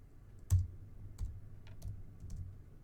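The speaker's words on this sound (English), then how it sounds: "I'm going to type in" Computer keyboard typing, a handful of separate key clicks in an irregular rhythm, close and fairly quiet, with no talking.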